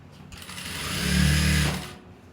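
A sewing machine stitches a kameez at a shoulder seam, its motor whirring up from a quiet start into a steady, close, fairly loud run for about a second before slowing and stopping.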